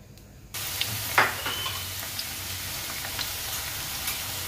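Garlic sizzles and fries in hot pork fat oil, a steady close crackling hiss that starts abruptly after a brief quiet moment, with a few sharper pops and spatters along the way.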